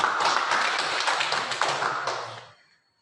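A group claps together in a brisk burst of overlapping hand claps that fades out quickly near the end, leaving silence.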